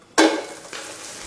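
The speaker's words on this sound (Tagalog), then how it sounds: "Igisa lang natin to sandali." Chinese sausage (chorizo Macau) dropped into hot oil in a pan, a sharp sizzle bursting in at once, then settling into a steady frying hiss with a faint stir partway through.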